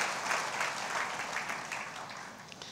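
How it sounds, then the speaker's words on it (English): An audience at a talk applauds with a steady wash of clapping hands, fairly soft and continuous, fading slightly toward the end. "Can we give her a round of applause?"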